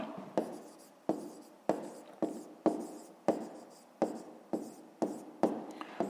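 A pen writing by hand on paper while working a fifth-grade maths exercise, with a series of about a dozen short, sharp scratchy strokes at an irregular rhythm, close and alone.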